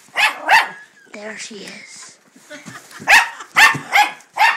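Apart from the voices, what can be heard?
dog barking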